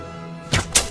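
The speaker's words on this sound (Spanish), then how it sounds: "Voy a hacer el lance con el arco" In the hunting video game theHunter: Call of the Wild, a bow loosed at an animal about twenty metres off gives two quick whooshing snaps close together over a low background hum.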